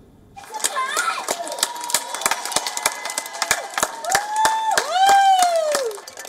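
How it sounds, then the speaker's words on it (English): Britain's public clap for NHS nurses: crowds outdoors clapping and cheering together. Sharp claps ring out over a constant crowd roar, with whistles gliding up and down and children's voices mixed in. "Do you remember the NHS clap?"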